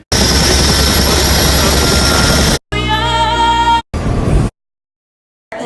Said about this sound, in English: they told me this the same helicopter for Mission Impossible.